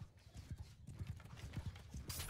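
Horse hooves clip-clopping in a medieval-style cavalry battle game, a steady run of close, moderately loud hoofbeats in uneven rhythm, with a brief horse whinny and battle noise building near the end.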